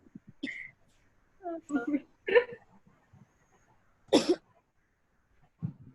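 Several short, sharp coughs scattered across a quiet lecture room, with a pause between bursts and one louder cough near the end.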